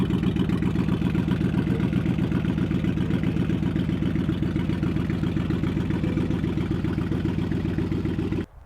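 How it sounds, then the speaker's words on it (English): A Lexus Land Cruiser V8 with a holed, damaged exhaust runs loud and steady up close, a throbbing, rattly idle that holds for about eight seconds before cutting off abruptly. "Now you might hear the sound of a V8 starting up in the background with a hole in the exhaust"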